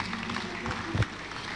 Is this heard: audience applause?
yes